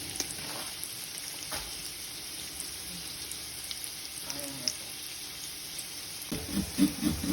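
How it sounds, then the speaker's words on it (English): Meat goes into hot oil already in the pot, giving a continuous low sizzle with light stirring clatter and a louder burst of frying near the end. "But I will go ahead and add my meat right into the pot,"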